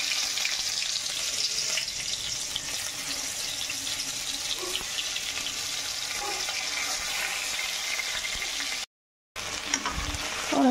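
Eggplant frying in hot oil with asafoetida and cumin, a steady close sizzle with faint stirring, briefly cut silent near the end before the crackle resumes.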